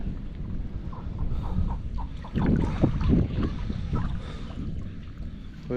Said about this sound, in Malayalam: ഈ കാറ്റും മഴയും കൂടെ കിടക്കുന്നുണ്ട്